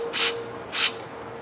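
Two short hissing bursts of cleaner sprayed through a thin tube into the fixed jet of a 1995-1996 Honda Shadow ACE 1100 carburetor, close and crisp, each lasting about a quarter second with a quiet pause between.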